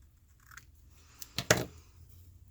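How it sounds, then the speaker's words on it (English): Scissors snip a small triangle off the corner of a napkin transfer paper tag: a couple of quick, close, crisp cuts close together, with a faint rustle just before them. "I'm just going to cut a little triangle off the corner here"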